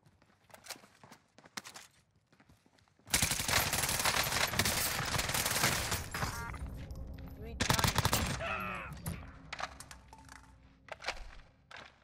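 Video-game gunfire in Call of Duty Warzone from a burst-firing M16: a long, loud, dense stretch of rapid shots after quieter footsteps, then another heavy burst and scattered fainter shots and movement.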